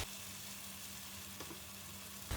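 Egg whites for menemen fry in a pan with a steady, soft hiss that holds evenly throughout, a faint crackle rising near the end; no voices.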